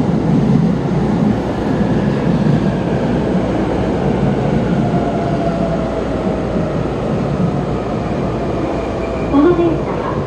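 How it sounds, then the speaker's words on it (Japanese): A Rinkai Line train pulls into platform 8 at Osaki station, its steady rumble and rail noise filling the space throughout, with a faint whine and a brief squeal near the end. "8番線電車到着しております。"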